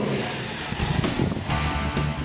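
Toyota Hilux 4x4 engine labouring as it climbs a slope on an off-road club challenge course, a steady close rumble with rising surges of revving.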